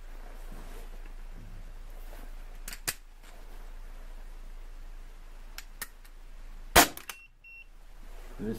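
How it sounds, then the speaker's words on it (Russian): A few sharp shots from an MP-512 air rifle crack out in a quiet space, spaced several seconds apart, one noticeably louder than the others. "Сейчас пару выстрелов сделаем."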